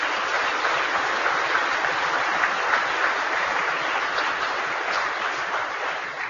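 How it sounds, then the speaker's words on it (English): Audience applause at an Associated Builders and Contractors gathering, a dense, steady wash of clapping sustained throughout and fading only slightly at the end, with no talk over it. "So give yourselves a round of applause."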